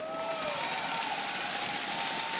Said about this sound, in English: Another big round of applause for Polt for winning his match against Harstem.